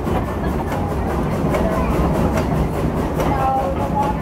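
A Silver Dollar City steam train ride, heard on board as a steady rumble of cars rolling along the rails with faint rhythmic clatter, continuous and close, with a voice talking over it.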